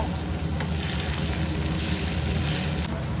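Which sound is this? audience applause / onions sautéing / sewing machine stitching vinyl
onions sautéing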